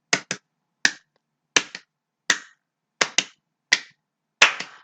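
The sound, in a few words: double hand claps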